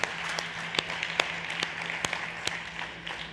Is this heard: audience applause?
yes